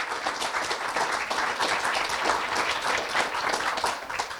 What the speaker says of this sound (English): Let's give ourselves a round of applause for being here.